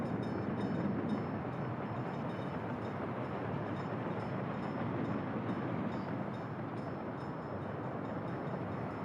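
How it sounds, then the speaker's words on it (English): Dense, continuous train rumble and rolling rail clatter from the Workers & Resources video game, a steady mid-level wash of many trains running at once with no talk over it. "We've got so many trains running in here."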